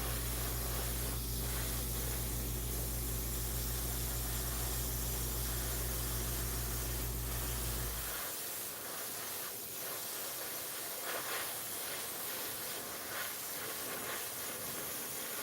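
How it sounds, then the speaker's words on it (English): Airbrush spraying thinned hobby paint in a steady, close, loud hiss that runs alone for about eight seconds, then cuts to a quieter airy hiss with faint intermittent ticks. "it sprays like a lacquer. It atomizes really, really well"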